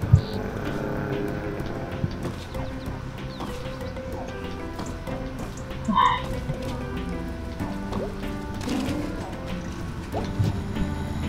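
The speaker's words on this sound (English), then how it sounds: "What a lovely car sound." A car engine in the video game Night in the Woods hums as a steady low rumble for the whole stretch, with no one talking over it.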